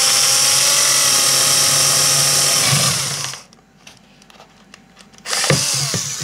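A power drill bores drainage holes in succulent pots, a loud, close, high whine running steadily for about three seconds, then a quieter pause with small clicks before the motor starts up again.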